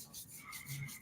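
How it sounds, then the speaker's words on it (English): Palms rubbing together at the start of a Kundalini yoga practice, a soft, close, rhythmic swishing friction repeated several times in about a second. "start rubbing your palms together"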